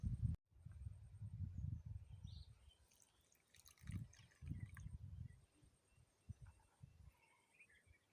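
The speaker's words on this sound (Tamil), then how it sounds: "கொஞ்சம் தண்ணி ஊற்றிக்கலாம்." Water poured out in a village setting, a quiet trickle and a few soft splashes and drips, coming in short uneven bursts against low background rumble.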